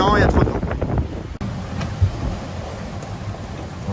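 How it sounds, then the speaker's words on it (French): Strong wind, around 28 knots, blows at sea on a Pogo 30 sailboat racing from Madeira to Martinique, a loud continuous rush with buffeting gusts against the microphone, a sharp knock and water noise behind it. "il y a trop de vent"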